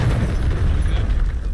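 A grenade blast in the shooter game Call of Duty, a deep low boom that rumbles loudly for over a second with no voices over it.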